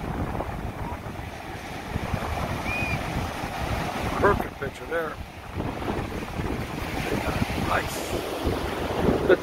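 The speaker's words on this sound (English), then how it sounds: "tide's coming back in. That's what's going on here. Tide's coming back in." Ocean waves roll in on an incoming tide at Emerald Isle, North Carolina, a broad continuous surf wash mixed with heavy wind buffeting the microphone, with a few faint voices and thin squeaks in the middle.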